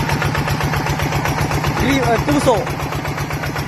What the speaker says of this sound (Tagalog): Yan, maandar na po yung makina natin.